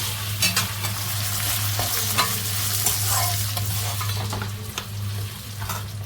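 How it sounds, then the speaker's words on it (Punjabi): Spices sizzle and crackle in a hot pan while a utensil stirs and scrapes with occasional clinks, close up and continuous. "ਹੁਣ ਤੜਕਾ ਲਾਉਣਾ"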